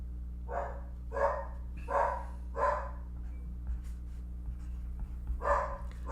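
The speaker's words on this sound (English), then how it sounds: "Barking at nothing." Dog barking indoors, five loud, evenly spaced barks close to the microphone with a pause before the last one, over a steady low electrical hum and no talking.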